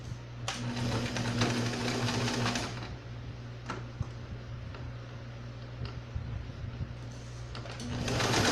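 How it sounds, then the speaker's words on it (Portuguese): Sewing machine stitching small fabric pleats on a doll's garment, a steady close whir running through the first few seconds, then pausing before a second short burst at the end. "Costurei as preguinhas aqui da frente, agora eu vou costurar aqui de trás"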